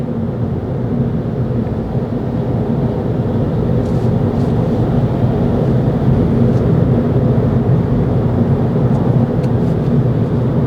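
Car cruising at steady speed with manual gear mode engaged, a continuous low engine and road drone with wind noise, steady and even throughout, no voices.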